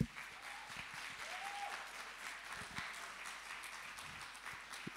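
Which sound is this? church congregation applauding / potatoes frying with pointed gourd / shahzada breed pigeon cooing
church congregation applauding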